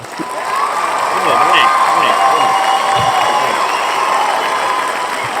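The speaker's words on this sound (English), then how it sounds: "Round of applause." Crowd applause and cheering for a guest, with children shouting in the background, a loud sustained roar of claps and voices filling the whole stretch, with speech mixed in.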